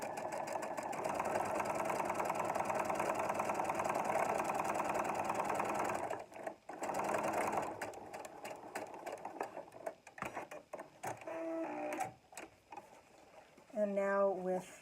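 A sewing machine stitches ribbon onto the lower edge of a fabric scrub hat, running in a steady close whir that breaks into short stop-start bursts later, with a voice talking over part of it.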